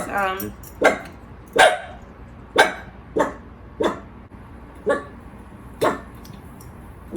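A dog barks in sharp single yips, about eight of them spaced roughly a second apart at a steady pace, fairly close and loud over a quiet indoor background.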